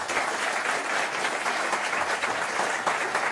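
Audience applause at a French stand-up comedy show, a dense, steady clapping from a crowd heard close and continuous for a few seconds, with no talk over it.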